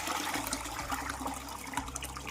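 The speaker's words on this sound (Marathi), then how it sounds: "आपल्याला त्याच्यात पाणी ओतायचं आहे" Water poured onto washed rice in a vessel makes a continuous close gushing, splashing pour that fills the whole moment with a few faint knocks underneath.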